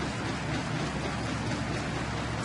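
Rain pours over a baseball field during a Texas at Detroit game on July 20, 2010, a dense, even hiss with no breaks.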